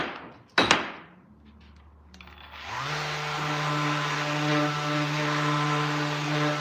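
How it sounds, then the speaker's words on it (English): A sharp knock, then a power sander whirs up and runs steadily on brass, loud and close, its motor whine holding an even pitch. "So, okay, continue on with the sanding."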